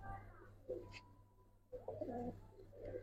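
Male pigeon cooing in a loft: several soft, low, throaty coos at close range, separated by brief pauses, with a steady low hum underneath.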